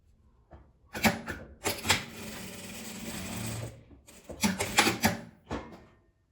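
A sewing machine stitches the side seams of a fabric beret in several quick bursts, short runs separated by pauses, with one longer steady run in the middle. The machine sounds close and clear.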